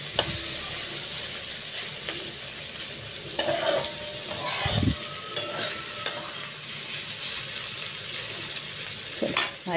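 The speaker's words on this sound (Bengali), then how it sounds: "কাজু কিশমিশটা দিয়ে একটু নেড়ে নিই" Cashews and raisins stir-fry in a pan for Bengali fried rice, with a steady soft sizzle under scraping stirs and occasional clinks of a spoon against the pan, no voices.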